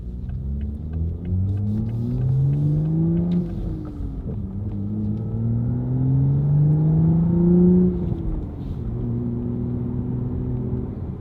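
Manual Mk5 Toyota Supra in sport mode, engine droning steadily with rising and falling revs through gear changes, a loud continuous rumble heard from inside the car.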